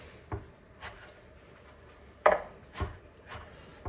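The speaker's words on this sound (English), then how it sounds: "Because I'm going to cut some fruit up." A knife cuts up fruit in a kitchen, producing a handful of sparse, uneven thuds and taps on a board, close and fairly quiet with pauses between cuts.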